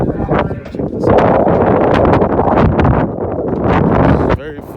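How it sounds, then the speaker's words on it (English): Strong gusts of 10 to 20 mph wind at an outdoor shooting range buffet the microphone with loud, continuous roaring rumble that swells and dips, cutting off abruptly near the end. "It's windy as crap out today"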